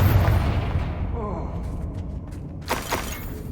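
A Confringo fire spell explodes in Hogwarts Legacy: a deep boom opens the clip, then a sharp blast bursts out near the end amid game sounds.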